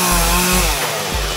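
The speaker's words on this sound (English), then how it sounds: "Had to bring out the chainsaw for some of that stuff." A chainsaw close by cuts back thick, overgrown hedges and vines, its loud engine snarling and rising and falling in quick revving bursts throughout.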